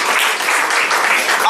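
Congregation at a Sunday church service clapping loudly and steadily, a dense burst of applause filling the whole short moment with no voice standing out.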